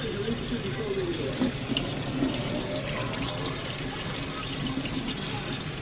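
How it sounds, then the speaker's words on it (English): Peppers rinsed under a running kitchen tap, a continuous moderate splash of water with faint handling sounds throughout. "I get the 3-pack peppers. And I wash them off."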